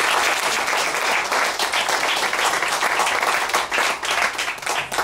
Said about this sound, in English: give yourselves a hand clap for coming out tonight